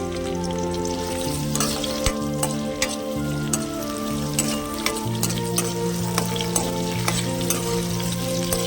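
Sliced onion and green chillies hit hot oil in a pan for a chicken and dosakaya curry, giving a loud, steady close-up sizzle and crackle with frequent sharp pops and spatters throughout, with no voices.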